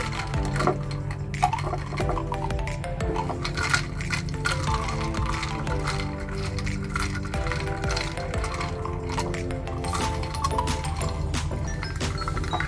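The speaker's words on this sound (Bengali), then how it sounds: "এখন একটা স্ট্র দিয়ে কফির সাথে দুধটা ভালো করে মিশিয়ে নিচ্ছি" Coffee and milk are stirred with a straw in a glass, giving a busy run of small clinks and knocks against the glass, close and continuous throughout.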